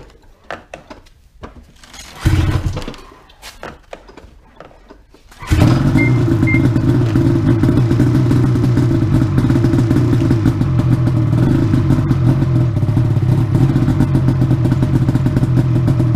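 2005 Ski-Doo Summit 800 H.O. snowmobile two-stroke engine cold starting in a garage with choke on: some clatter and a brief crank, then the engine catches and runs loud and steady.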